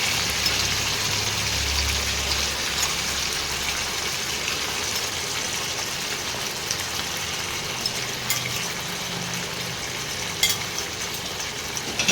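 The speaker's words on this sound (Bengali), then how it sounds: "এবারে ভালো করে মাংসটাকে তেলের মধ্যে ভাজতে হবে, মানে কষাতে হবে" Marinated chicken pieces fry in hot oil for a spiced handi chicken masala, giving a steady, bright sizzle and hiss that continues evenly for the whole stretch, with a few small pops and no talking.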